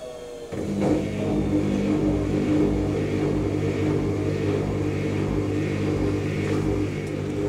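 An IKEA RENLIG IWM60 integrated washing machine comes out of its spin with a sudden start, then a sustained motor whine and low drum rumble hold steady, close and fairly loud, with no talk.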